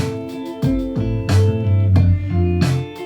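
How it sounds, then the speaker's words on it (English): Drum beat thumping under a deep bass line and sustained chords, a short loop of a song in progress with no voices. "so now the whole thing sounds like this so far."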